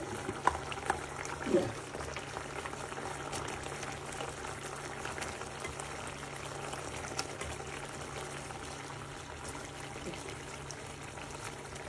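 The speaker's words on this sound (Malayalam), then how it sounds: "ഗ്രേവി നന്നായിട്ട് തിളക്കുന്നുണ്ട്" Steady low bubbling and simmering of mackerel curry gravy in a pot, continuous and close, with a few faint clinks near the start.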